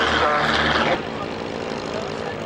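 A de Havilland Dragon Rapide (Dragon Six) twin-engined propeller biplane flies past at an army air corps airshow, a steady loud engine drone that is strongest in the first second, then eases to a continuous hum.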